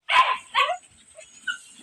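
A dog barks up close: two sharp, loud barks, then a softer yip about a second later.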